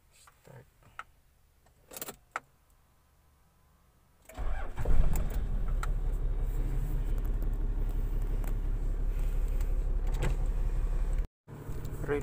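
A 1992 Toyota Land Cruiser with an automatic transmission starts up: a few quiet clicks and key sounds, then the engine catches and settles into a steady, loud idle that runs for several seconds before briefly cutting off.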